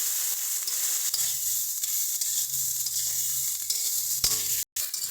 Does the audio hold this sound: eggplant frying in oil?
yes